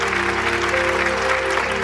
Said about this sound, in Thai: ขอเสียงปรบมือให้กำลังใจน้องเบลหน่อยครับ